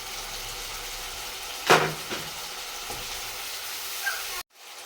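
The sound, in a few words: shrimp frying in spiced oil for drumstick curry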